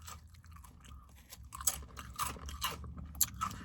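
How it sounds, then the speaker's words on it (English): Crunching on SunChips multigrain chips, a series of crisp bites and chews heard up close with irregular sharp crackles, no talking. "You get the crunch of the sun chip."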